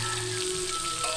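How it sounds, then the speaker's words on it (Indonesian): Shrimp frying in a pan make a steady, close hiss with soft crackles and pops that keeps going without a break. "Nah, ini kita goreng, jangan lupa dibolak-balik biar matangnya itu paripurna"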